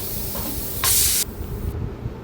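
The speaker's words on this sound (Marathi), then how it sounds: "इकडे कुकरच्या शिट्या होत आहेत" A pressure cooker cooking for pav bhaji lets out a short, loud burst of hissing steam that starts suddenly and cuts off after about half a second, set against a quieter background hum.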